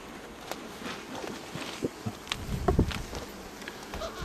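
Honey bees buzz around an open hive, a soft, continuous hum with scattered clicks and handling knocks close by.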